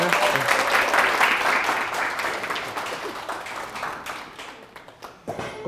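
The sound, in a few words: audience applause welcoming a lecturer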